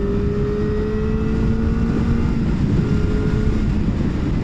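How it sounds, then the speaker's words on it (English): A Kawasaki ZX4-R 400-class sport bike's engine drones loudly and steadily while riding, its tone climbing slightly, with heavy wind rush over it. "you have to rev this bike to get something out of it, because this is a full gas."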